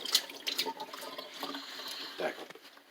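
A CPAP face mask being rinsed under a running tap, splashing water broken into uneven bursts and drips, fairly quiet and close, with small clinks of the mask.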